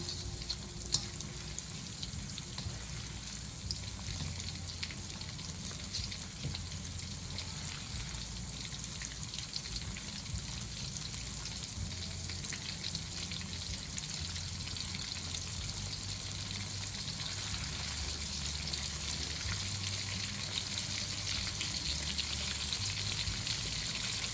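Cornstarch-marinated chicken deep frying in hot oil for cashew chicken, a steady dense sizzle and crackle running unbroken throughout, close and even.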